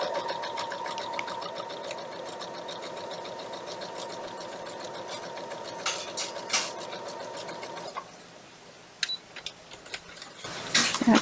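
A sewing machine runs steadily for about eight seconds, stitching two right-sides-together 5-inch fabric squares at a 1.6 stitch length, then stops, leaving a few light clicks and handling noises.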